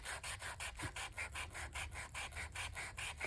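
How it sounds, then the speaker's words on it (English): A sanding disc is rubbed across a painted tile surface in quick, even back-and-forth strokes, a rhythmic, scratchy abrasive rasp repeating steadily about five times per second, close and fairly quiet. "instead of tearing up the edges, I'm going to take my sanding disc here"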